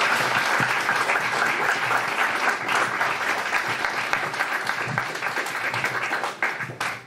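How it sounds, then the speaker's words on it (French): Steady applause from an audience at a lecture fills the whole stretch, dense and even, with a slight thinning at the very end. "on peut les applaudir bien fort."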